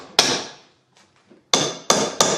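A bolt is hammered into a wooden trellis piece: four sharp, close, loud knocks, one followed by a pause and then three in quicker succession.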